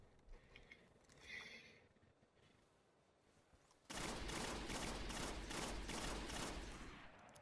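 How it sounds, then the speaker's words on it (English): The Bad Juju rifle in Destiny opens up after a quieter lead-in, unleashing a sustained rapid string of closely spaced shots that stays loud until the end. "Let's see how Bad Juju performs with smooth ballistics."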